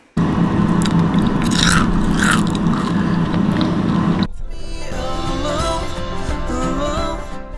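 Crunchy cooked chickpeas are bitten and chewed close to the mic, with loud crisp crunching at first and then quieter, steadier chewing.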